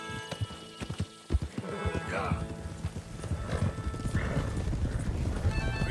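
Horses in Red Dead Redemption 2 with rhythmic clip-clop hooves on the move and a few whinnies and neighs rising above them, while someone shouts to herd the animals.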